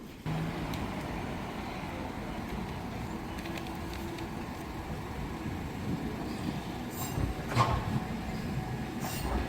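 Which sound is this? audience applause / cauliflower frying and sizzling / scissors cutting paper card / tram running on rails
tram running on rails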